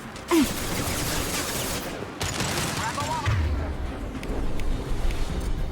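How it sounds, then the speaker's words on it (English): A high-impact gunshot fired in the sci-fi shooter Mass Effect 2, a loud sharp blast followed by dense battle noise and a second strong report, with a voice briefly heard over the gunfire. "Firing a high-impact shot!"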